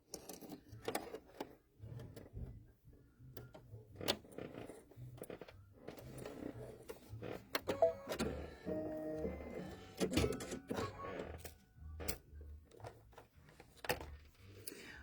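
An embroidery machine stitches a window placement line for a KimberBell bench pillow, giving a quick mechanical rhythmic whirring and tapping that runs continuously with brief pauses, close up and fairly quiet, with no talk.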